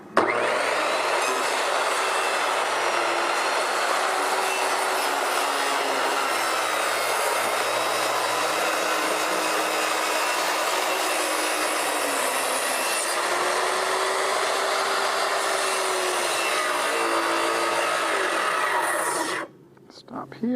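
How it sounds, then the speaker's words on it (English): A power saw cuts along the outside edge of a curved cedar dock deck, a loud, continuous whining roar held for about twenty seconds before it cuts off abruptly near the end. "now I'm going to cut my outside edge here"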